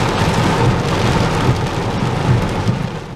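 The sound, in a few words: heavy rain pouring down in a storm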